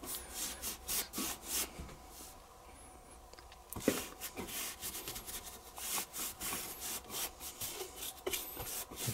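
Brush spreading a paint wash quickly over model railway landscaping: soft, irregular bristle scrubbing strokes in quick bursts, faint and close-up, with no voices.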